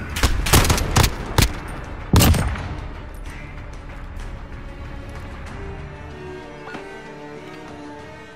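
Gunfire in Call of Duty Black Ops 2, a few sharp loud shots in quick succession early, then one more shot followed by a fading, quieter game soundscape.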